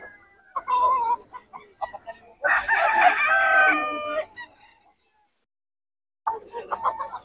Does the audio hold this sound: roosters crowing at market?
yes